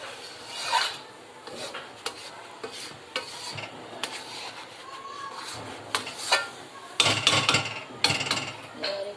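Thick chana dal halwa stirred in a pan, a spoon scraping and rasping against the base in repeated strokes, with brief gentle sizzling between scrapes and louder scraping bursts near the end.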